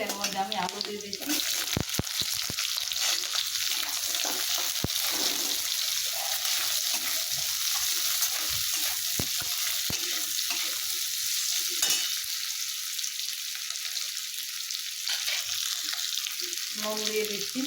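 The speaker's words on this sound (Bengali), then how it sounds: "ভাজা হয়ে গেছে, এর মধ্যে আমি আলু দিয়ে দিচ্ছি।" Sliced potatoes and chopped onion frying in hot oil in a home kitchen, a steady broadband sizzle running throughout with occasional stirring scrapes and brief low clatters.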